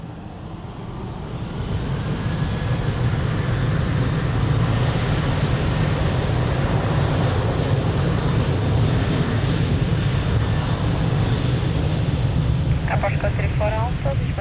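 An airliner takes off from runway 02 at Lisbon Airport, its engines swelling into a loud, steady roar that holds for the whole stretch, while a brief voice is heard near the end.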